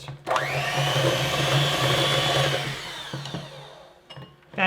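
An electric mixer whirs through quick bread ingredients, a loud steady motor hum that spins up sharply, holds, then winds down and stops, with clatter at the end.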